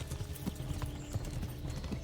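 Horse hooves clip-clopping in the Kingdom Come Deliverance video game, a steady series of fairly close, evenly paced hoof strikes.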